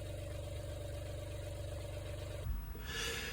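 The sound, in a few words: lifeboat engine running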